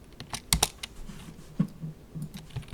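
Keys clack on a computer keyboard in short irregular bursts, close and fairly quiet, with no voices present.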